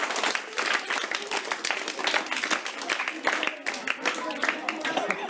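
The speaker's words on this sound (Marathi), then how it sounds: "टाळ्या वाजवा सर्वांनी।" A school audience claps for a girl student being honoured at a National Voters' Day mock election event, a dense, steady patter of many hands that keeps going throughout, fairly close and evenly loud.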